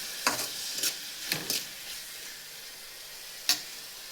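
A spoon scrapes and knocks in a pan a few times while chopped tomatoes fry, with a low steady sizzle between the strokes.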